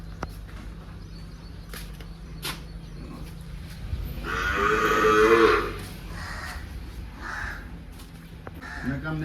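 A Gir cow gives one low moo in the middle, fairly close, against a farmyard background where crows caw now and then.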